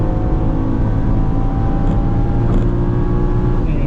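A BMW M3 at full throttle on the Indianapolis Motor Speedway straightaway, a loud, steady engine drone and road roar heard from inside the car without pause, with no talking.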